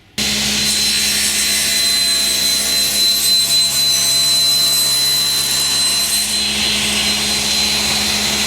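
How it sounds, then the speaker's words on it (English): A metal strip being cut into 2-inch sections on a power saw for a car seat-mounted rod rack makes a loud, steady whine and roar that runs without a break from start to finish. "I'm going to cut a strip that's 9/16 wide and then cut that into 2-inch long sections."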